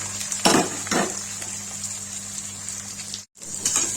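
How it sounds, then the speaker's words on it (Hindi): Chopped onions hitting hot oil with crackling cumin seeds for an Indian turai and potato curry, giving a steady close sizzle with a few sharper bursts and a brief drop near the end. "तड़क गया, इसमें डालेंगे प्याज।"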